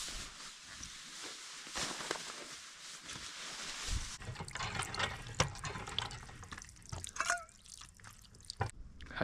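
Water trickles and drips from a small potable-water well pump beside a rail trail in a Pennsylvania gorge, a close, irregular patter of drops and splashes that shifts partway through as the flow changes.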